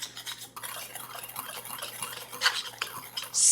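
Cinnamon and sugar stirred together in a bowl, a soft scraping and clinking of utensil against dish running steadily and close, with a brighter knock near the end.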